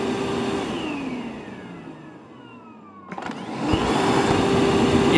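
A Makita XGT 80V cordless vacuum cleaner runs with its auto clean system, a loud steady motor whine that dips and swells as the filter cleaning switches, with a sharp click partway through.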